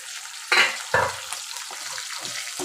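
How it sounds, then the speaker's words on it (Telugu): Onion and curry leaf masala frying in oil for a prawn curry, a steady close sizzle with a couple of louder bursts of spattering and stirring near the start. "చూడండి ఇలా ఫ్రై అయితే చాలు"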